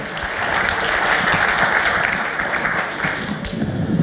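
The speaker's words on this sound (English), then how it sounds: "Give them a very welcome, very nice applause." A conference audience applauding, dense sustained clapping that holds steady for a few seconds, loud and close.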